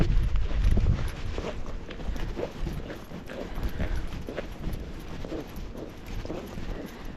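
A Rocky Mountain Horse walks along a trail, its hooves making soft, muffled, irregular thuds close to the microphone, with rustling and some wind noise throughout.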